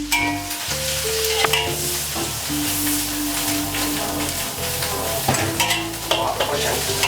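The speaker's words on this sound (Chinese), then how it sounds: "腌菜下锅" Pickled vegetables are stir-fried with shredded pork, soy sauce, green pepper and sugar in a wok, giving a loud, close sizzle with repeated scraping spatula strokes and clanks and no voices.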